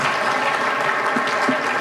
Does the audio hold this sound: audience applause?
yes